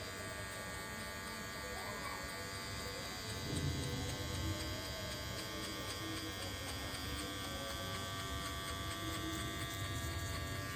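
Electric hair clippers cutting a no-guard fade, the lever moved between closed and half, giving a steady close-up buzzing hum that runs unbroken throughout.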